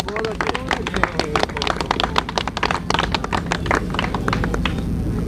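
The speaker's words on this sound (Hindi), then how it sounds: "तालियाँ बजा कर ज़रा दाद दीजिएगा ज़रा" Audience at the opening ceremony of a new Pakistani film clapping in a steady stream of sharp, close claps, with talk and crowd murmur running underneath.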